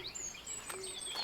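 A small bird in the cozy puzzle game Botany Manor gives a few thin, high chirps, soft and nearby against a quiet background.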